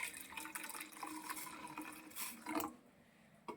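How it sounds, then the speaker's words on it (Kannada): Hot milk is poured into filter coffee decoction, giving a soft, close liquid stream that gurgles and fills in quiet surges before trailing off, with no talking. "ಡಿಕಾಕ್ಷನ್ ಹಾಕಿದ್ಮೇಲೆ ನಾನು ಬಿಸಿ ಆಗಿರೋ ಹಾಲನ್ನ ಹಾಕ್ತಾಯಿದ್ದೀನಿ"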